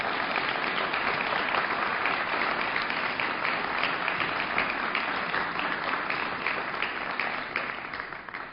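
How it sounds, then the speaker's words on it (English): An audience applauds at a Muslim American community event with Attorney General Loretta Lynch, dense sustained clapping from a large crowd that holds steady and fades slightly at the end. "A round of applause for all of them for their leadership."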